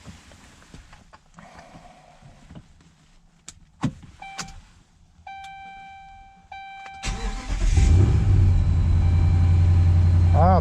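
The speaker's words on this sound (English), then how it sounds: "let's see if we can start our truck" A 2012 Ram 1500 Hemi truck's engine cranks and catches after a few quiet clicks and chimes, then settles into a loud, steady idle up close.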